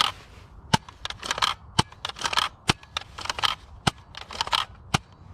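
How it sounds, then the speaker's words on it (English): A Nerf Zombie Driller dart blaster fires several shots downrange: sharp, loud mechanical snaps in an uneven rhythm, mixed with rattling clacks of priming and handling between them. "Now let's fire some shots downrange."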